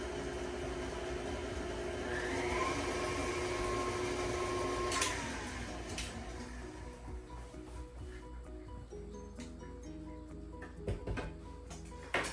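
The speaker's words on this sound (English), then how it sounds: "we're just going to give this a good mix and make sure that sugar is blended in there very well." An electric mixer whirs through sourdough muffin wet batter to blend in sugar, a steady motor hum that rises in pitch, then gives way to scattered clicks and bowl knocks near the end.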